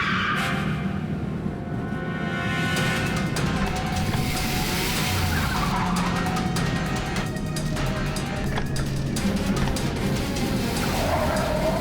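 Car on the road moving with tires skidding and squealing, a continuous loud engine and road roar with scraping tire noise throughout, no speech heard.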